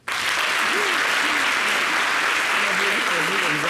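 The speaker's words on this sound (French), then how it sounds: "On applaudit." A television studio audience on a French-language talk show bursts into dense, sustained applause that starts abruptly and holds steady, loud and close, with faint voices and cheers mixed in.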